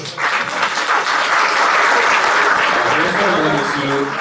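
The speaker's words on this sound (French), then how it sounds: "fourchette d'or et mérite international de la gastronomie, ça s'applaudit davantage" Restaurant guests at a gastronomy award ceremony applaud steadily, a dense sustained clapping that fills the room at close range from start to finish, with faint voices mixed underneath.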